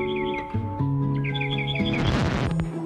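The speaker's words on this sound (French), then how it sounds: "calme, on entend les oiseaux." Birds chirp and tweet steadily outdoors in a quiet wooded neighbourhood, bright repeated calls over a tonal background, with a brief louder noisy burst near the end.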